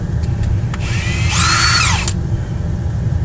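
A Milwaukee battery-powered drill tightening on a farm whirs in one short, loud burst of about a second, its pitch sliding down as it bogs under load, with a few faint clicks around it.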